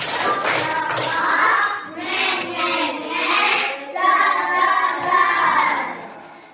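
A classroom of children does the rhythmic 'tepuk tiga' class clap, a run of sharp clap bursts in a repeating pattern mixed with their chanting voices, fading out at the end.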